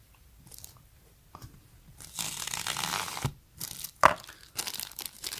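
Teeth chew and tear at the plastic packaging of a stainless steel Galaxy Watch band, giving close crinkling, ripping and crunching sounds in irregular bursts, with one sharp snap near the end.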